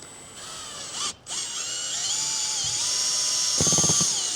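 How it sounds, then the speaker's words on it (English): A power drill fitted with an auger spins steadily, mixing two lawn fertilizers in a trash container, giving a continuous high whine that dips briefly and shifts in pitch as the load changes, with no talking. "Get a power drill and an auger like this."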